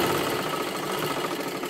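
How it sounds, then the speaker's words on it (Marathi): A sewing machine runs continuously, stitching along the upper edge of a blouse in a steady mechanical whir, close and alone without talk. "आता इथे वरच्या बाजूला आपल्याला शिलाई करत करत यायचं आहे।"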